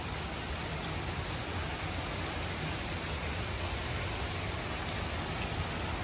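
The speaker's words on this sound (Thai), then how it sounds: "ฝน มันตกแรงนะ ขอหลบ ฝน กัน ก่อนนะ" Heavy rain pours down steadily, a dense, loud hiss of water drumming on surfaces with no letup and no voices.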